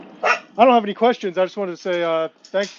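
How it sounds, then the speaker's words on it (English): A dog barks and yips repeatedly in quick bursts close to the microphone, loud enough to compete with someone speaking over a call. "excuse my dog barking in the background"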